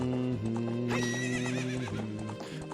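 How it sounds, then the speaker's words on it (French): Epona the horse whinnies in Hyrule Field in Zelda Ocarina of Time, a clear rising and falling neigh over steady clip-clop hoofbeats and game music. "on peut se balader dans la plaine d'Hyrule à cheval"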